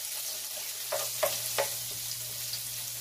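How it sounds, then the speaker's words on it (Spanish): Garlic sautéing in a little oil over high heat for cabbage with bacon, a steady close sizzle broken by a few soft clicks of stirring, no voices. "Vamos a sofreír el ajo."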